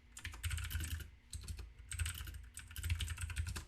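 Rapid clatter of keystrokes on a computer keyboard while entering commands into the Portal 2 game console, close and steady in three quick bursts with brief pauses between.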